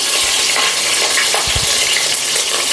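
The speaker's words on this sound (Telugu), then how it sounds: "ఇవన్నీ బాగా వేగించుకున్నాము." Cardamom, cloves, cinnamon, bay leaf, green chillies and onion frying in hot oil as the base for a coconut-milk mushroom biryani: a steady, dense sizzle with a few stir strokes, close and loud, no talk.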